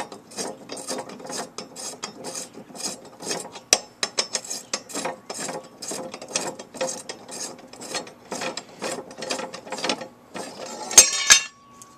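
A ratchet wrench clicks quickly and repeatedly while unscrewing a lawn mower blade, close and distinct, in bursts of rapid ticks with short pauses and a few sharp metallic knocks.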